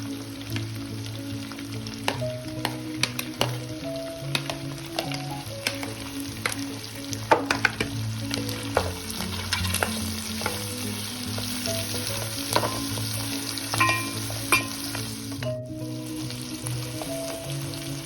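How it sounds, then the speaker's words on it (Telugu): Chopped onions and green chillies fry in hot oil in a pan for prawn and okra stew, a dense continuous sizzle with scattered spatters and scraping stirs throughout, close and alone without talk. "దీంట్లోకి కట్ చేసి రెడీగా పెట్టుకున్న ఆనియన్స్ మిర్చి యాడ్ చేసేయాలి"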